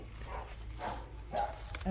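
Dogs barking outdoors at a plant sale, a few short barks and yips breaking through nearby while someone talks over them.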